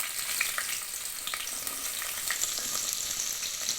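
Oil heating in a sufuria crackles with onions frying, a steady bright sizzle with scattered pops and light stirring, close and continuous with no voices.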